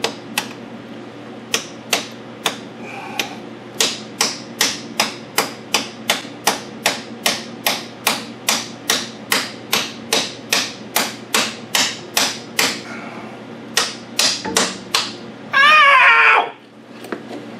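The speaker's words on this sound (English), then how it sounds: "Now this is a 25 mil socket, 24 mil socket, and a little bit of a brass hammer." Sharp metallic brass hammer strikes on a 24 mm socket set over a plug land in a steady rhythm, about two per second, followed by a short harsh scraping squeal.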